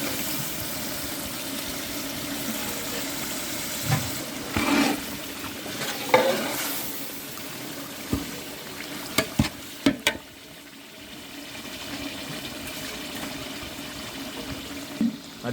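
Chicken pieces for a large batch of Dindigul biryani fry in masala, a steady close sizzle with stirring scrapes, wet plops and a few sharp knocks against the pot.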